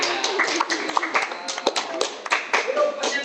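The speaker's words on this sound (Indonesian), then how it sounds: "Oke, tepuk tangan." Hands clapping in a short burst of group applause at a casual coffee-chat gathering, dense irregular claps close by, with some voices mixed in.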